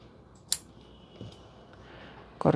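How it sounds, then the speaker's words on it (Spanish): Scissors snip knitting yarn in a few faint, quick cuts, one sharp click early and a louder clipped snip at the end, over a quiet room. "Cortamos la hebra y pasamos por aquí."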